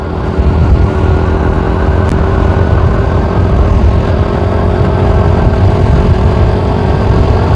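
A Harley-Davidson motorcycle's engine drones steadily and loudly on a rural road, its low rumble blended with road and wind noise and holding an even level throughout.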